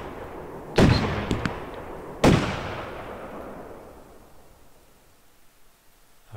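Two sharp firework bangs in the video game Fireworks Mania, each a loud crack followed by a long fading rumble and hiss, the second about a second and a half after the first.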